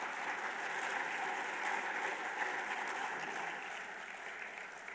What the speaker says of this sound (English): I'd like to ask for a round of applause for all those who worked on this game.